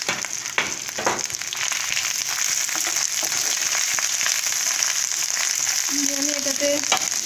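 Fried vegetables and ginger paste with radhuni stirred in a pan for Bengali shukto, a steady close sizzle carrying on throughout, with faint scrapes of the spatula and a short tonal clank near the end.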